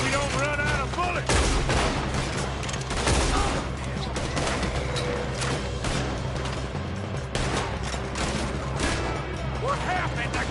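A chaotic gunfight in Red Dead Redemption 2 during a robbery, with rapid volleys of rifle and pistol shots cracking almost continuously over a dense background of game sound and voices.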